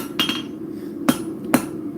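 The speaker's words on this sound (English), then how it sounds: "I'm just letting this hammer do the work for me." Light hammer blows on glowing-hot forged metal, three crisp metallic strikes with uneven gaps, close and clear against a steady background hum.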